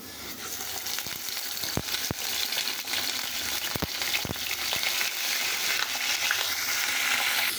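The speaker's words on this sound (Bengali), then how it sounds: "সুন্দর করে ভাজা হয়ে গেছে।" Fish tails sizzle and crackle steadily in a hot pan, a continuous close frying hiss with a few sharp pops and clinks of a utensil against the pan.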